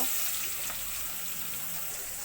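Chopped onions frying in oil in a pan after fish, a dense steady hiss and sizzle, close and even across the short stretch.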